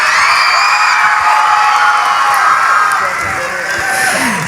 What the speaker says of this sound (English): one more round of applause for Sky Jackson